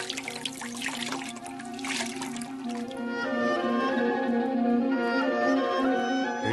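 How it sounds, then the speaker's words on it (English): Water poured from a vessel over a person's hands for washing, a steady trickling and splashing stream that swells slightly louder in the second half, heard alone without voices. "Elisha, pour this water over my hands that I may wash"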